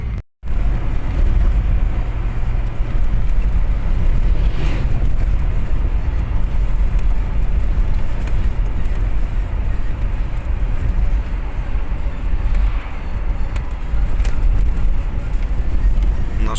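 Steady low road rumble of a car driving along a rural Ukrainian road in the Verkhniodniprovsk area, a constant broadband drone with no talk.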